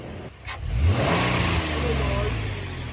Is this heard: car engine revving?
yes